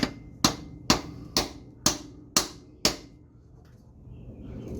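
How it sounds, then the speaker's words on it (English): A hammer drives a homemade 3D-printed tool while a bent shaft is replaced on a Duramax-swapped Squarebody truck. Seven sharp, close strikes land about half a second apart, then the sound falls quiet. "Take my homemade 3D printed tool, stick it right there, and swing a hammer incredibly close to my face."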